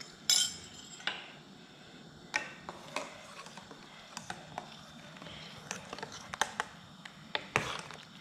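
Soji cooked with melted butter and liquid colouring is stirred in a pot for breakfast, a quiet steady bed of soft scraping broken by sharp intermittent spoon clinks and taps against metal, close up with no voices.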